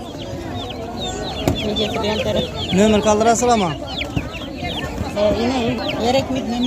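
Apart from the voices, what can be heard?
two-month-old chicks clucking at a poultry market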